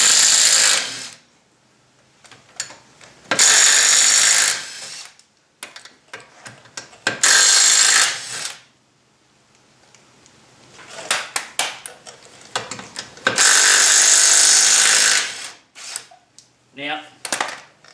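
Bursts of a loud power tool, an impact wrench removing a car wheel during CV joint work, whirring in several short blasts separated by quieter clanking and handling noise.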